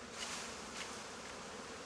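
Steady, close buzzing of many honeybees around a hive frame, a continuous dense drone with no voices.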